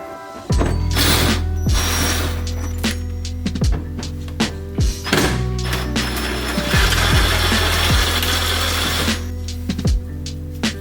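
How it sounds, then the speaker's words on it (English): A power tool spins out bumper extension screws on a BMW E90 328i while the nuts are held from inside. Whirring runs come in bursts, broken by clicks and clatter. The sound is close and fairly loud, and no one speaks. "So I'll need to get inside here so that I can counterhold the nuts so that I can remove these screws."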